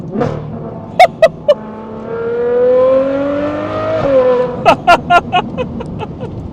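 A widebody Ferrari 812 GTS exhaust rumbles and rises through a long rev, then cracks out a run of sharp pops on the downshifts, heard close from inside the car.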